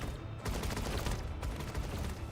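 Mortar strike in the video game Arknights: Endfield, a rapid burst of crackling explosive impacts rumbling heavily, loud and close, with two sharp onsets about a second apart.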